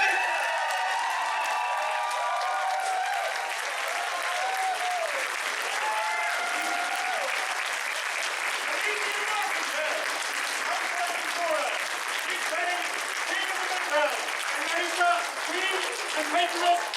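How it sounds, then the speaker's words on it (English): Crowd applause at an archery and missile combat elevation ceremony: steady, sustained clapping from a gathered group, with voices and scattered cheers mixed in over the clapping. "clap."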